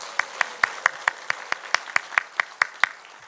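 A church congregation at a Sunday afternoon service claps for new members in a slow, regular unison rhythm, about fourteen evenly spaced claps, moderately loud in a reverberant room.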